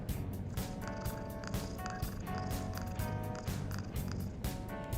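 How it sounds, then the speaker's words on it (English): Morgana, the cat character from the video game Persona 5 Royal, purrs steadily through the PlayStation controller speaker when the touchpad is touched. A continuous rhythmic rumble with chiming tones, moderately loud and without talk. "There is a purring noise that comes from the PlayStation controller."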